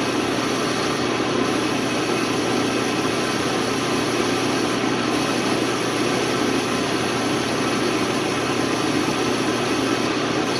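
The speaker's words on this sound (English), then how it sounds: "So I've decided I really like this speed for the lathe. It's a lot quieter." An Atlas 12 metal lathe runs at a quieter speed, giving a steady, even mechanical hum and whir that stays constant from start to finish, close by, with no voices.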